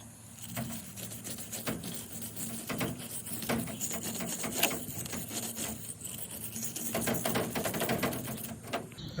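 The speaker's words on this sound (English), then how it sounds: "Let's take a wire brush to it." Wire brush scrubbing rust off a piece of rebar after electrolysis, a close, continuous rapid scratching with quick rhythmic strokes and sharp ticking bristle hits.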